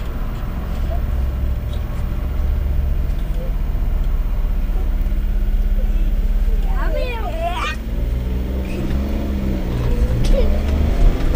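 A car drives along with a steady low road rumble and engine hum from inside the cabin, while children talk and shout in the background.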